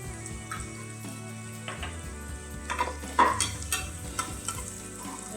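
Onion frying in oil in a pan for a Kolhapuri mutton dish, a soft continuous sizzle broken by a few clinks and scrapes of a spoon against the pan, close and quiet, with no voices.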